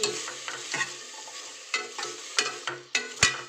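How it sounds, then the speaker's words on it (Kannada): Food fries with a steady sizzle in a pan while a spoon stirs it, giving a series of sharp scraping and clacking strokes at uneven intervals, close and fairly loud, with no talking. "ಇದೆಲ್ಲ ಇವಾಗ ಚೆನ್ನಾಗಿ ಫ್ರೈ ಮಾಡಿಕೊಂಡು"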